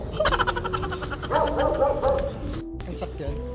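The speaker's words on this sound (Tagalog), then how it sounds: "Daming doggy dito guys." Dogs bark repeatedly at moderate distance amid night street noise and people talking near cheap eateries by UST, the yaps coming in quick bursts.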